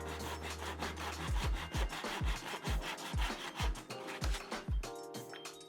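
A hand saw cuts wooden spacer pieces for a DIY floor lamp, rasping through the wood in a quick, steady rhythm of about a dozen close, loud strokes.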